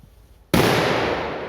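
A red-flame FS3 firecracker goes off with one sudden loud bang after a quiet moment, then a dense crackling roar that carries on at high level to the end.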